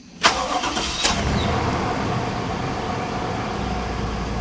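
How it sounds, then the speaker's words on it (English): A 1996 Buick Roadmaster cranks briefly and fires up after an oil change, then settles into a smooth, quiet idle that holds steady close by. "The engine's full of oil, and we'll crank it up and see how long it takes the light to go out."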